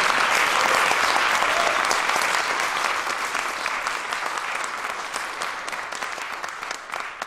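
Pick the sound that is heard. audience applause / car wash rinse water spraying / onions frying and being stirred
audience applause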